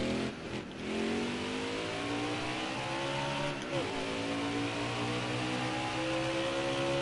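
A NASCAR Heat 4 race car engine drones and revs close by, pitch stepping as it downshifts and climbs again, with a short tire scrub midway and no talk.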